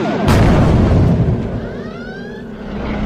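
Sci-fi spaceship weapons fire with a sharp blast followed by a rumbling explosion and descending whistling tones, loud and dense throughout, with faint voices beneath.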